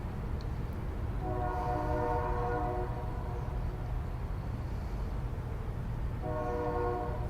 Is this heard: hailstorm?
no